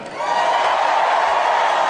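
Crowd cheering fills the whole two seconds, a loud, steady roar of many voices that builds quickly at the start and holds without a break.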